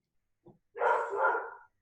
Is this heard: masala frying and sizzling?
no